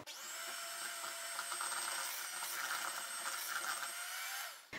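Electric hand mixer blending a flourless, sugar-free Easter kulich batter on the lowest speed, a close, continuous motor whine with churning texture that starts abruptly and cuts off just before the end, no talk.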